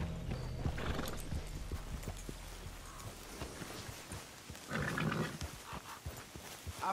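In Red Dead Redemption 2, horses neigh and whinny loudly near the listener while hooves clip-clop and shuffle in an uneven rhythm, with a second burst of whinnying midway.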